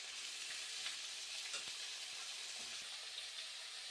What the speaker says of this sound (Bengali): বিনস আর ক্যাপসিকাম। এগুলোকে একটু হালকাভাবে ভাজবো।